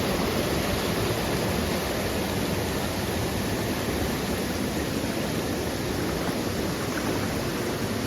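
A scenic forest waterfall makes a steady, loud broadband rush of falling water, unbroken and close by for the whole stretch, with no voices over it.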